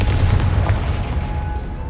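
A Confringo spell explosion in the Hogwarts Legacy video game lands as a single deep boom, with a low rumbling tail fading over a couple of seconds.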